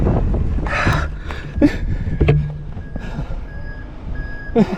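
Big lorries pass close by on a road during a mountain bike ride, a loud rumbling engine drone with swelling passes, reversing-style beeps and wind buffeting the microphone.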